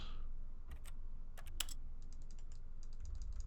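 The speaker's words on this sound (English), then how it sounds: "I love the keyboard clicky clackies." Keyboard keys clatter in scattered bursts and quick runs of clicks in The Stanley Parable, crisp and close over a faint low room hum with no talking.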